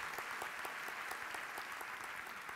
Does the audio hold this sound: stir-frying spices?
no